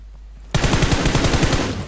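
A sharp burst of rapid automatic gunfire from the PUBG Mobile battle royale game, loud and close, with shots ringing out in quick succession for over a second after a quiet start.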